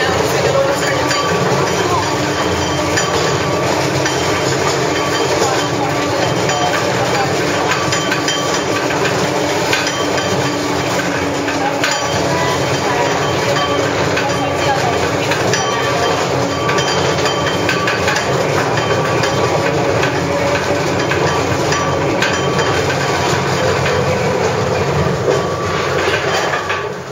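Train rolling along rails, a steady loud rumble with metallic clatter lasting throughout, close up and continuous.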